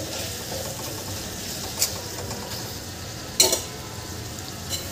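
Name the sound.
bitter gourd and potato vegetable stir-frying in pan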